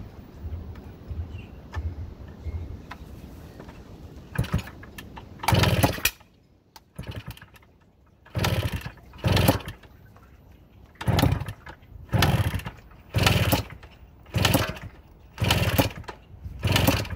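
Kawasaki KDE90 bike engine being kicked over, firing in repeated loud pops and brief bursts that sputter out between attempts, close up with no talk.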